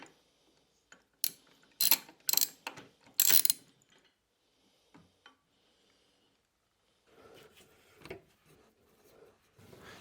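A ratchet on an extension turns the front sway bar bracket bolts on a Jaguar XKR, giving several close, crisp clicking bursts early on, then quieter scattered clicks and handling noises, with no speech.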